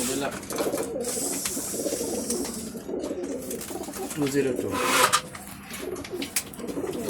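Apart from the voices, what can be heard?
pigeons cooing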